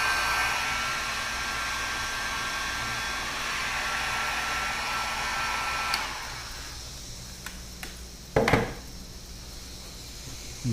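Heat gun blowing steadily on a Freon tank during a refrigerator sealed-system repair, a loud even airy roar that cuts off partway through, leaving faint room noise and a few small clanks.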